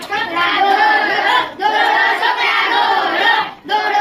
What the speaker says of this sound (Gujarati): તાળી પાડો એના માટે જોરદાર